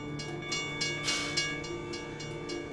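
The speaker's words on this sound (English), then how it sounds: "we just had to get it when a train's going through" A train passes through Tulsa, Oklahoma, as a steady low rumble with faint rhythmic wheel clatter and swells of noise. It sounds fairly quiet and distant, as if heard from inside a car, with no talking.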